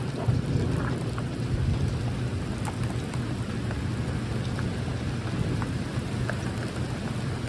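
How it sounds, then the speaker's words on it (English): Steady rain pattering on and around a pop-up tent at a lakeside campsite in Kentucky, a dense continuous hiss with occasional faint distant thunder rumbling underneath; no talking. "There comes the rain."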